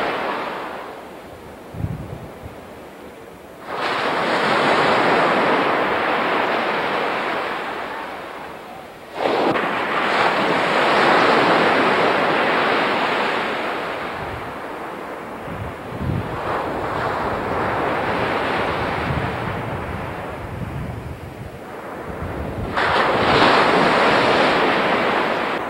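Ocean waves breaking on the only sand beach in Acadia National Park, heard right down by the water: loud, close surges of surf rolling in and washing out in long swells, with wind buffeting the microphone.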